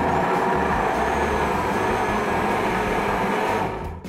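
A kitchen blender purees radish, pear and honey into a thick syrup, heard as a loud, steady, dense motor roar running close and alone throughout before it trails off at the very end.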